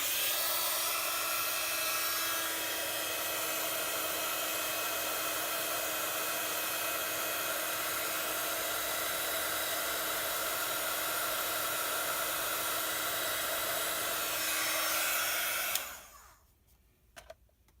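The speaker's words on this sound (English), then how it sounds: "give it a little heat, and then it kind of, because you've heat embossed on the rose" A heat embossing tool blows a loud, steady whooshing roar over a stamped rose on a card, running continuously before cutting off abruptly near the end, followed by a few faint clicks.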